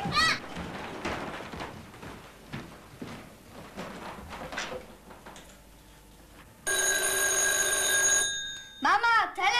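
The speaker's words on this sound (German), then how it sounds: "Mama, Telefon!" An old telephone bell rings in a home, a loud sustained metallic trill arriving after a stretch of talk and movement, with voices speaking again as it stops.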